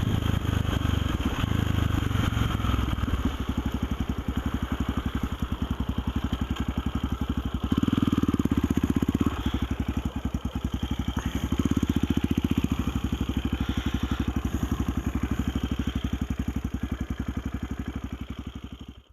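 A 2006 KTM 660 SMC single-cylinder motorcycle idles steadily nearby outdoors on a wet day, its low, even thumping pulse continuing throughout with slight rises in level and no talk.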